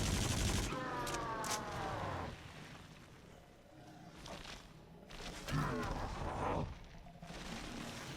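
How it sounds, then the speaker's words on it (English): Gunfire aimed at a giant demon's heart in the VR shooter Until Dawn: Rush of Blood, heard as a rapid burst of shots, then further clusters of blasts with quieter gaps between them. "I'm gonna shoot his heart here"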